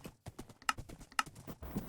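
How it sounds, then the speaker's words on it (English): Horse hooves clip-clopping steadily in a multiplayer battle royale video game, a quick rhythmic trot of close, clear hoofbeats with no talk over them. "Our team is pulling up on a horse."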